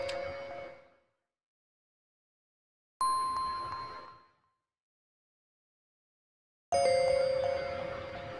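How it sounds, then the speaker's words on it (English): Three recorded bell strikes from a bells track in music software ring out one by one, each bright metallic tone decaying over about a second with silence between them. "We got the bells track."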